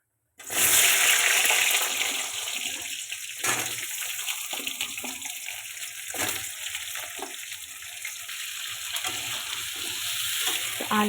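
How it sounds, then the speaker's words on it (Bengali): Cumin seeds and bay leaf drop into hot oil in a wok, starting a loud sizzle at once. It settles into a steady crackling fry that stays up close for over ten seconds. "কড়াইয়ের মধ্যে তেল দিয়ে দিয়েছি, তেজপাতা দিয়ে দিয়েছি। এবার দিয়ে দেবো সাদা জিরে।"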